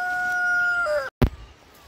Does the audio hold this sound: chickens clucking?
yes